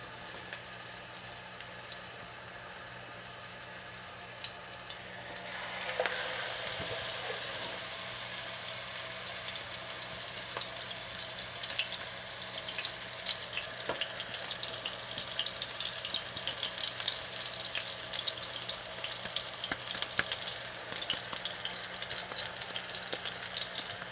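Kabob patties, shaped like hamburgers, fry in a pan with a steady close sizzle that briefly flares louder, continuing evenly with faint watery crackles and no talking.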